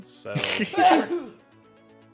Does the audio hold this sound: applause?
no